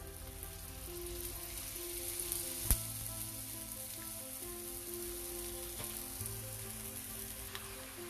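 Jowar thalipeet flatbread fries in oil on a pan with a steady, soft sizzle and a couple of faint clicks. The sizzle runs throughout at low volume and no one speaks.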